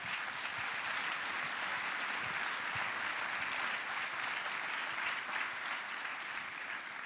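Audience at a film festival opening ceremony clapping, a dense, steady wash of applause from a large crowd that holds at an even level throughout.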